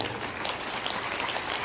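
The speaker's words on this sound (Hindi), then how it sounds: "ताली बजा दो।" Steady applause from a seated audience at a spiritual discourse, dense continuous clapping without pause, loud and close.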